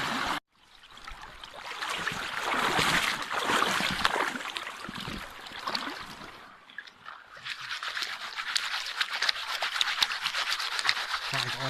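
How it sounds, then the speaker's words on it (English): A gold pan is swirled underwater in a Scottish stream at Baile an Or, Helmsdale, producing close sloshing, gritty scraping and trickling water that surges and eases in waves, with a brief drop in the middle. "We've got the pan underneath the water. What we've got to do is we've got to start to pan it."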